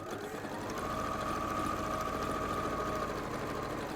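Sewing machine stitching rows of fabric squares with a quarter-inch seam foot, a continuous even whirring hum at moderate volume with no talking.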